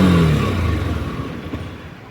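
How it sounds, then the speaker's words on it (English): A Honda motorcycle's exhaust note, either a Hornet 2.0 or a CB200X sharing the same 2024 OBD2 engine, rumbles close and loud as the revs fall off and settle into a steady idle, with no talking. "You may feel the exhaust note also."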